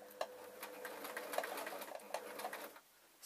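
A sewing machine stitches a tee shirt strip, its needle running in a quick rhythmic chatter with a few sharper clicks, fairly faint and close, then stopping shortly before the end.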